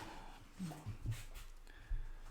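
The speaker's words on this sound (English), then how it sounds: "Who's this puppy?" Faint, brief whimpers and small yips from a puppy, a few soft cries close by.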